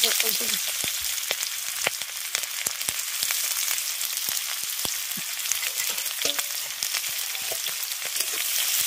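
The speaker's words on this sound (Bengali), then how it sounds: "এবার পেঁয়াজ আর কাঁচা লঙ্কাটাকে আগে ভেজে নেব।" Chopped onions and green chillies fry in hot oil after the whole-spice tempering, giving a steady, close, dense sizzle with scattered crackles and pops throughout, no voices.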